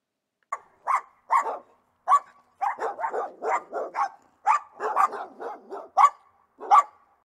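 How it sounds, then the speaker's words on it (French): A dog barks repeatedly at close range, a quick series of sharp, evenly spaced barks against silence. "Le jappement, c'est le bruit que fait un chien."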